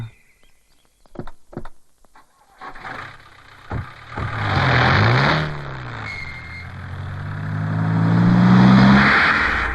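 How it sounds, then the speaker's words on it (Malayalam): A car engine starts after a few sharp knocks and idles, then pulls away with a swelling, steady drone that grows louder toward the end. No one speaks. "ബാബു വണ്ടി ഇടാ"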